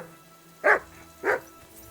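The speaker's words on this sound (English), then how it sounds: "That dog of yours is barking like the devil." A dog in the medieval game Kingdom Come Deliverance 2 barks twice, two sharp, fairly close barks about half a second apart over a quiet background, with no talking.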